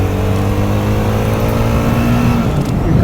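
A BSA Bantam 350 motorcycle engine runs steadily and loud throughout, holding a constant drone with a brief shift in pitch near the end as the gears change.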